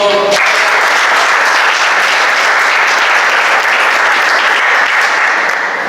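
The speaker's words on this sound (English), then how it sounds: "So a big round of applause for." Loud, dense clapping from a Toastmasters meeting audience in a room, starting abruptly after a brief voice and holding steady and close for the whole stretch.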